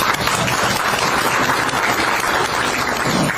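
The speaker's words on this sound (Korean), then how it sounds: "이럴 때 박수 한번 쳐주세요." A crowd of elderly people at a senior citizens' association gathering in Gokseong applauds a political speech, steady dense clapping held loud and close for a few seconds without talk.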